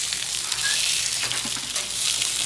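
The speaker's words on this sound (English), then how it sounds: "Listen to that sizzle." Teriyaki chicken skewers sizzle on a hot griddle with a loud, continuous, close crackling hiss and no voices.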